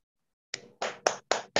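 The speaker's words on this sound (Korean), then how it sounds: "지금부터 박수로 듣도록 하겠습니다." A handful of separate hand claps from a small audience at a Korean lecture welcoming an emeritus professor, four or five sharp close claps after a brief silence, with no talking.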